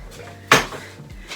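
Dishes and pans clatter during kitchen washing up: one sharp, close clunk of crockery stands out amid quiet background handling, with softer knocks before and after.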